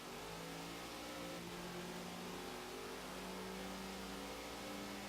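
The engine of a Hoonigan car in Forza Horizon 3 revs on a wet road, its tone climbing and falling in smooth rising sweeps, loud and continuous, with no talking.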